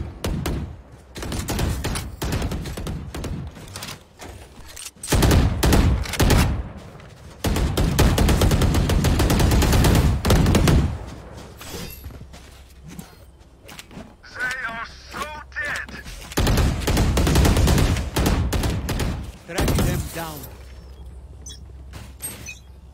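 Gunfire in a first-person shooter, loud bursts and volleys of shots coming and going throughout, with booms and mechanical clicks between them and occasional speech underneath.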